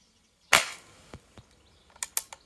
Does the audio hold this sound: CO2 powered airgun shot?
yes